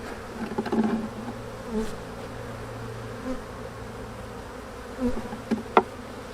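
Honey bees at a hive in a thinly populated colony after winter, giving a steady low drone with a few louder buzzing passes close by.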